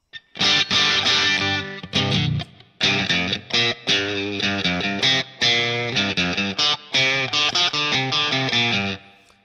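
Electric guitar through a Line 6 POD HD500 modeled Fender Bassman (bright) tweed amp, warm and slightly gritty, playing a lively riff with choppy chords and single notes, loud and upfront, no distortion pedal.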